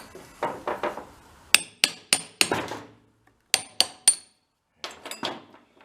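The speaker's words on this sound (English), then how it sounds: "we'll give it a whack with a hammer" Sharp metallic hammer strikes knocking a part loose during engine knock repair work, about nine distinct ringing blows in uneven groups, close and loud, with a few lighter clinks at the end.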